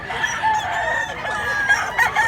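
A rooster crows at a live chicken market in Mantalungon, Cebu, its drawn-out call sounding close over a steady background murmur of the crowd.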